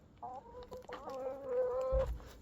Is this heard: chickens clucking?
yes